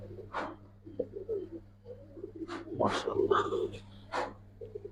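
Silver Giribaz pigeons of an old Kaldam breed coo in soft, repeated bursts close by, mixed with someone talking over a steady low hum.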